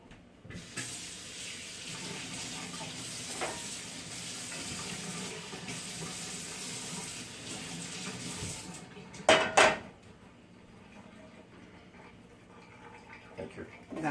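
Water runs from a kitchen faucet into a sink while dishes are washed, a steady hiss of flow with occasional clinks of dishes and utensils and a louder clatter near the end, under soft background voices.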